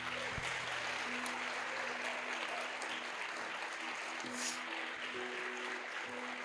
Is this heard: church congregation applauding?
yes